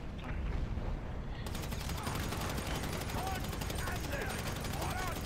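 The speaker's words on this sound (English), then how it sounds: "Just ignore the loud explosions outside." Rapid bursts of video-game gunfire and explosions rattle on continuously outside, a dense, steady barrage of crackling shots filling the whole stretch.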